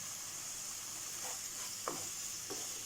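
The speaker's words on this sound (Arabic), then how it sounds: "نقلبهم كلهم مع بعضهم." Chicken filling sizzles in a frying pan while a spoon stirs it, a faint steady hiss broken by a few soft scraping strokes, with no talk.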